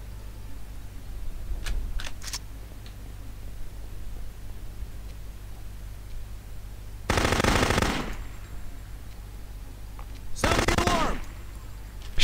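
Submachine gun fire in the video game No One Lives Forever 2 comes as two loud, close bursts lasting about a second each, separated by a few quieter moments with faint clicks and game background hum.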